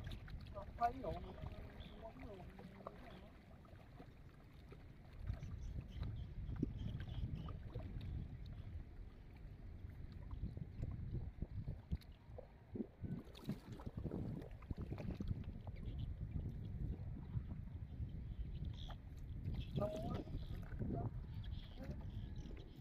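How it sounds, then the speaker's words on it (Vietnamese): A boat runs past on the Saigon River during net fishing, its low engine rumble swelling and fading in the distance under gusty wind noise, with people talking nearby. "Này ghe nó mà chạy ngang dưới không ta?"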